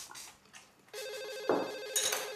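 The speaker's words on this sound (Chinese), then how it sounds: "接电话去， 你接。" A household telephone rings during a family dinner scene in a TV drama, with repeated electronic trill bursts, fairly faint and heard alone without talk.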